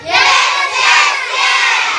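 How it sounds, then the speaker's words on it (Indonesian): A class of schoolchildren claps hands together in an Indonesian primary school classroom, a loud, dense burst of clapping that holds steady for about two seconds with faint youthful voices mixed in. "semuanya kita tepuk tangan"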